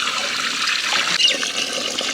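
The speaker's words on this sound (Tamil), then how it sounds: "தண்ணி சேர்த்துக்கலாம்." Water poured into a cooking pot holding country chicken and goat intestine, a continuous close splashing rush with a steady level throughout.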